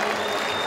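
Crowd at a political convention applauding for Chico Macena, a dense, continuous wash of clapping heard at close range in a brief burst.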